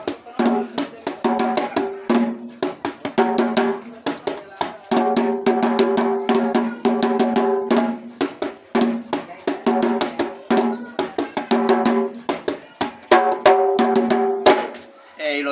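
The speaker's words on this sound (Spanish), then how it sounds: "a cantar los cánticos melancólicos y suena así el lumbalú" Lumbalú funeral rhythm from San Basilio de Palenque: steady hand drums beat under sustained melancholic chanting by a group of voices, loud and continuous with a driving repeated pulse.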